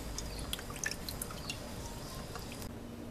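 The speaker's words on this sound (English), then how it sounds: "I'm gonna go ahead and wet it down with some filtered water before I plant the seeds" Filtered water poured onto a dry peat moss and perlite seed-starting mix, heard as faint, intermittent drips and soft wet squishes at close range against a low background hiss.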